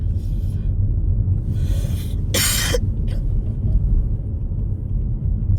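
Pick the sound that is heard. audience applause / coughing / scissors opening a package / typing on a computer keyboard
coughing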